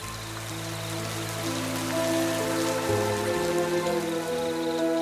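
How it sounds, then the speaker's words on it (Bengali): Cartoon rain pours down in a steady, even patter, heard beneath sustained musical tones that shift partway through. "আর বৃষ্টির জল তখনই ঘরে ভরে যেতে লাগে"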